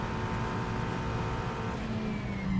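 On-board engine of a racing car at Spa-Francorchamps during a six-hour endurance race, a loud steady high-revving drone throughout, pitch holding then shifting slightly near the end, with no voices.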